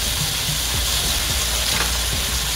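Loud, steady sizzling of pork steak frying in a hot pan, a constant hiss close by with faint crackles and no talking.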